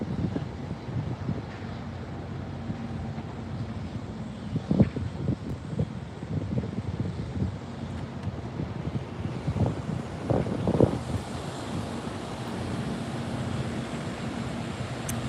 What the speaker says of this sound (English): It's getting a little windy too